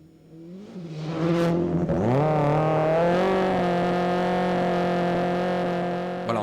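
Sébastien Loeb's studded-tyre rally car pulls away at the start of a Nordic rally stage, its engine rising sharply in pitch, then holding a loud, steady high-revving note close by.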